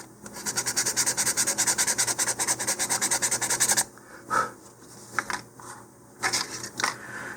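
Launch lugs on an NCR Cluster Duck model rocket are roughened before gluing: close, rapid back-and-forth rubbing strokes for about four seconds, then a few scattered scrapes and handling noises.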